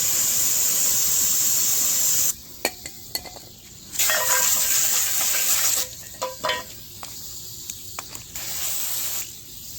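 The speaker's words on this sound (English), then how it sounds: "This is the non-chlorinated SuperTech brake cleaner, so it's the not so great kind from Walmart" Non-chlorinated SuperTech brake cleaner from Walmart hisses out of an aerosol can onto a dirt-covered ADV Ninja motorcycle in sustained bursts, broken by short pauses and sharp clicks from the nozzle.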